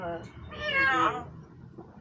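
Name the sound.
person imitating a kitten meowing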